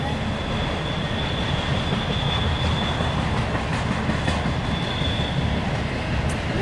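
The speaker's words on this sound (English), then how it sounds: "You're just hearing brakes." A BNSF intermodal freight train carrying containers and trailers applies its brakes. There is a loud, steady rumble of rolling cars with a thin, sustained brake squeal running through it, and no voices.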